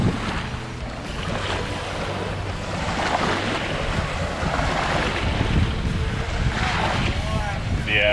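Ocean waves wash onto a warm beach in a breeze, a steady surf roar with wind buffeting the microphone, while people chat nearby.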